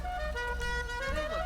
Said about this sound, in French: Sorry pour le son, le bruit du klaxon.